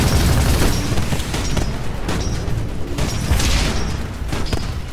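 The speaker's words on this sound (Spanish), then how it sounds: "Tienen la explosión ese nuclear cuando explotan" Atomic titans in the Titanfall video game detonate in nuclear explosions, a continuous loud barrage of booms and rumbling blasts mixed with gunfire that keeps going through the whole stretch.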